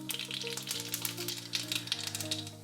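A teaspoon of mustard seeds crackles and sizzles in hot oil while clam roast is being cooked, a busy crackling spatter with a steady hum underneath.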